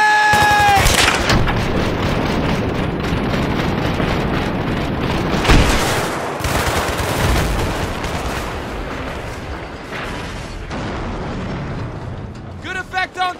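Suppressing gunfire in the Battlefield 3 video game, with loud bursts of shots and mechanical clatter that are dense early and then thin out, followed by a quick rattling burst at the end.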